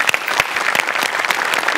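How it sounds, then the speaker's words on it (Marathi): A studio audience at a Marathi comedy show applauds loudly and steadily, a dense close wash of many hands clapping with no voices. "तुझ्यासाठी एकदा जोरदार टाळ्या."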